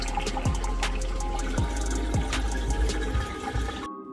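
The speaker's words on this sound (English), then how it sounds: "drained the water out of the enclosure." Water drains from a reptile enclosure through a ball shutoff valve and hose into a 5-gallon bucket, a steady close pouring and trickling with some brief knocks and thumps, then an abrupt stop.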